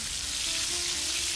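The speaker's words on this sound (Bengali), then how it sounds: "উচ্ছেটাকে বেশ সুন্দর করে ভেজে নিলে স্বাদটা" Bitter gourd frying in hot oil for a Bengali shukto, a steady soft sizzle that holds evenly at close range with no talk over it.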